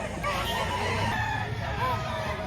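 Rooster crowing at a busy poultry market in Lipa, Batangas, a drawn-out crow heard at moderate distance over a constant murmur of crowd noise and faint clucking.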